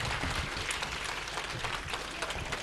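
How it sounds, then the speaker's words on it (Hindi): Audience clapping at a Hindi poetry gathering in Hardoi, a dense, continuous wash of applause filling the whole stretch without pause. "मैं पुनः एक बार जोरदार ताली बजाकर आशीर्वाद दीजिए"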